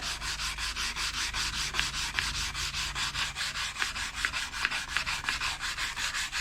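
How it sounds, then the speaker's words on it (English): A camp knife handle is sanded by hand in fast, even back-and-forth strokes that make a continuous close rasp, with a few faint taps now and then. "just sand, turn it, sand, turn it, sand, till I get it like I want it"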